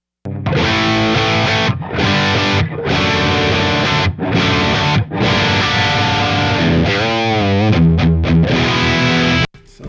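An electric guitar plays through a Mesa Mark V amp into a cab with Greenback and Vintage 30 speakers. The heavily distorted, loud chords and riffs run continuously with brief gaps, ending in a sudden cutoff.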